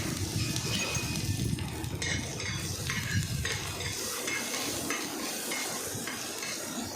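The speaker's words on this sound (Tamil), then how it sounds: "சேர்த்து நல்லா வதக்கி விட்டுக்கோங்க." Shallots, garlic and curry leaves sautéing in a pan, a loud dense sizzle with steady stirring and scraping, quieting a little after a few seconds, no talking.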